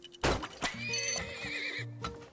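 A horse neighs in the video game Turmoil: a loud whinny with wavering pitch that runs for about two seconds, opening with a sharp attack and carrying clip-clop hooves underneath.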